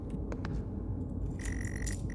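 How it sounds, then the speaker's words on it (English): Quiet metallic jingling of keys being picked up from a table in the game Stories Untold, a brief bright clinking over a low ambient hum. "You grab the keys from the table."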